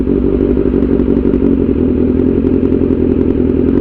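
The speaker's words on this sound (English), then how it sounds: "you just listen to the engine a little bit" A motorcycle engine runs close by at low revs as the clutch engages, a loud, steady, throbbing drone with a faint clattering texture and no variation in pace.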